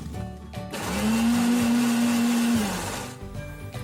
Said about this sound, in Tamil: இதை ஒரு 4 to 5 செகண்ட்ஸ் அரைக்க போகிறோம்.